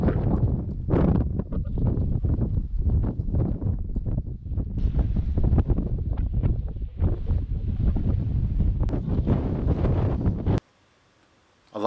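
Strong wind buffets the camera microphone outdoors on a Colorado pronghorn hunt, a loud rumbling roar with gusting surges throughout, then cutting out abruptly near the end.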